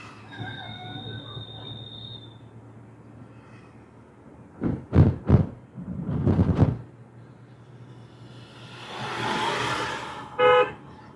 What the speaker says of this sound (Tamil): ஹார்ன் லாங்காக ஹார்ன் அடித்தா தானே புரியும் அவங்களுக்கு